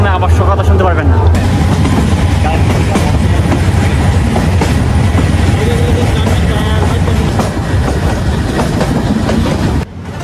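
Loud, continuous rumble and rhythmic rattling inside a crowded Titas Commuter train running on the Brahmanbaria to Dhaka line. Wheels clatter steadily throughout, with a faint murmur of voices in the packed carriage.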